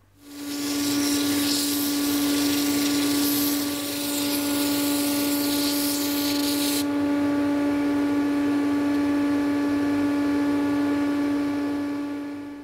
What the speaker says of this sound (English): I'm going to go to the disc sander now and finish it up.